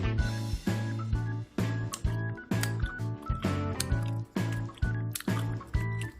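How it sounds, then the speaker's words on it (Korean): Chewy oatmeal rice cake tteokbokki in thick sauce is chewed close up, soft squishy sticky bites repeating in a steady rhythm beneath rhythmic background music. "쫀득쫀득 떡 씹는 소리가 들리시죠?"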